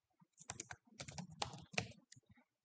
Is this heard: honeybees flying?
no